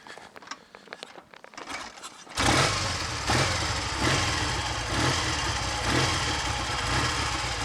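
A Triumph Tiger 100 motorcycle engine on a short test ride, quieter mechanical clatter at first, then a loud, steady, close engine drone with wind roar that swells slightly as it pulls away.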